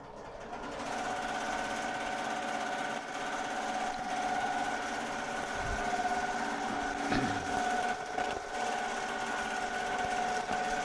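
A multi-needle embroidery machine stitches continuously at 1,000 stitches a minute, giving a fast, even mechanical hum with a steady whirring buzz. It is heard from a short distance with no talking.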